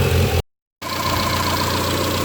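A 1990 Honda Accord engine idles roughly with a misfire, a close, uneven mechanical drone that briefly drops out before resuming.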